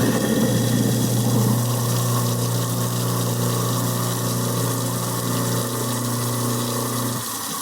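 A kitchen garbage disposal runs with hot water flowing, a steady loud motor hum with rushing water that holds evenly and then cuts off near the end, with no talking.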